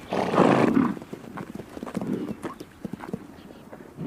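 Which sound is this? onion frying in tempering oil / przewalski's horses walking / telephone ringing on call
przewalski's horses walking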